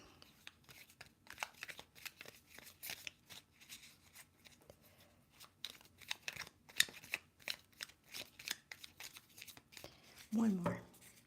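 Crisp, rapid papery riffles of tarot cards being shuffled in a few bursts, close up, with quiet talking in the background.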